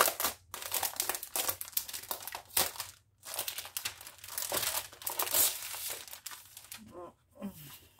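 Wrapping paper is crumpled and crinkled up close in bursts of loud rustling with brief pauses, and a voice is heard briefly toward the end.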